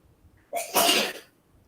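A single loud sneeze, close up, with a short indrawn breath before the explosive burst, then quiet.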